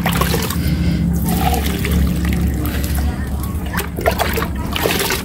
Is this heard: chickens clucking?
no